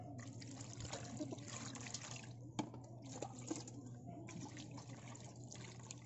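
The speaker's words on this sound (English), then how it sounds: "Pwede nyo siyang hugasan sa running water." Milkfish (bangus) being rinsed under a running kitchen tap, a steady faint trickle and splash of water with a few louder drips and knocks, no talking.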